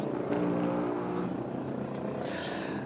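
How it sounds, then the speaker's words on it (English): A race car engine idles in the pit lane at the Bathurst 12 Hour, rumbling steadily with a low throbbing drone and faint higher whine, no talking over it. "That sound you're hearing is the car getting ready to go back out onto the track."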